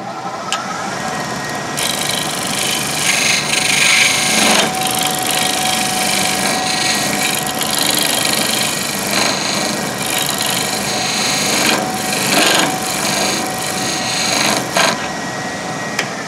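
A wood lathe spins a segmented bowl while a parting tool cuts into it, giving a steady motor hum overlaid with rough, scraping bursts of cutting that swell and fade at intervals, with no talking.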